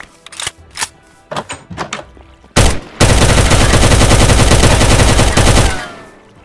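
Rapid automatic gunfire in the video game Minecraft, from a nuclear war battle: scattered single shots and short bursts give way to a dense, loud sustained volley lasting several seconds before cutting off.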